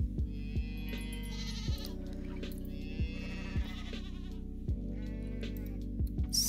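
A goat in the Coral Island farming video game bleats several times over a steady low hum, with soft rhythmic tapping in between.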